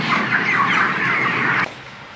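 Chickens on a hot poultry farm in Satkhira, a loud dense chorus of clucking and squawking birds filling the space, continuous for about a second and a half before dropping abruptly to quieter background.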